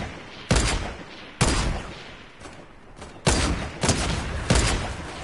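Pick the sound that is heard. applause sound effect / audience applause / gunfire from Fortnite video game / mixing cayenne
gunfire from Fortnite video game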